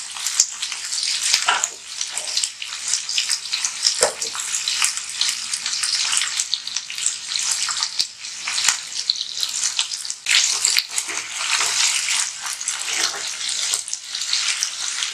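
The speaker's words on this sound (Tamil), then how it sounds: "கடுகு பொரிஞ்ச உடனே நம்ம காய போட்டுக்கலாம்." Ivy gourd fries in hot oil with mustard seeds, giving a dense, steady sizzle with crackling pops, loud and close throughout.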